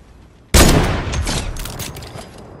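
A single loud sniper shot in Fortnite cracks sharply and then decays into a long, rumbling tail, standing alone with no talk.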